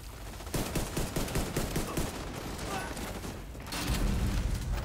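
Sustained automatic gunfire aimed at machine gun turrets in The Division 2, a dense rapid rattle of shots throughout, growing heavier near the end, with game effects mixed in.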